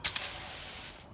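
Car jet washer attachment on a garden hose sprays water in a close, steady hiss lasting about a second.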